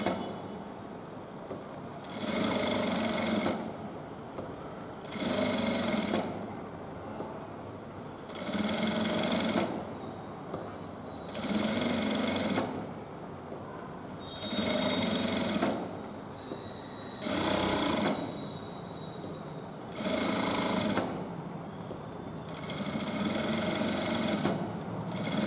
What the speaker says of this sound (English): After stitching, I am going to add one top stitch